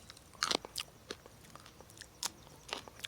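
Fresh crispy green bean picked from a garden and bitten, several close, crisp crunching bites and chews in uneven rhythm, fairly quiet, no speech.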